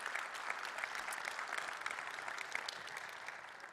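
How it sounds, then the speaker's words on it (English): Steady audience applause for open-source library contributors at a tech conference talk, dense continuous clapping from a full room, even in loudness and fading slightly at the end. "please give a huge applause to all the contributors to VueUse in this case"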